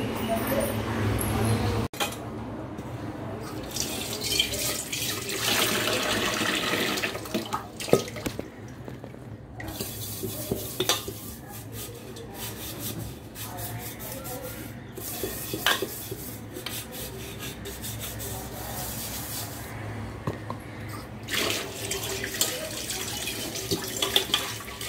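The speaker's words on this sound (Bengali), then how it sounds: "চলো চটপট কিছু বাসন টাসন জমে গেছে সেইগুলো একটু ধুয়ে মেজে নিই।" Tap water runs steadily into a sink while dishes and pots are washed at home, with splashing, drips and occasional clatter of utensils throughout.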